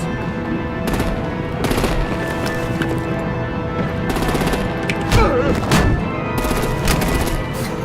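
Sustained gunfire and artillery in a Batman video game, dense rapid bursts of shots and heavy impacts continuing over a loud, busy battle din.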